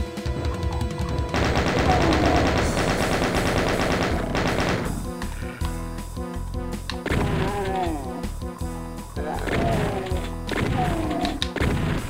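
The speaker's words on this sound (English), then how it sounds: "Three shotgun shots." Repeated shotgun blasts from the video game Ultimate Doom VR, loud and close, fired in quick bursts with a dense, busy game soundtrack underneath throughout.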